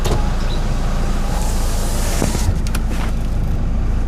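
A car engine idles steadily at a fuel station, a loud constant rumble with a faint clunk or two partway through.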